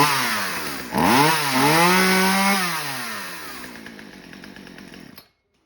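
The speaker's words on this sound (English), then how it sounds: "We're gonna start this thing up" A chainsaw with newly replaced fuel lines starts up and revs loudly, its engine pitch climbing and dipping through several throttle surges before settling into a steadier run and cutting off abruptly.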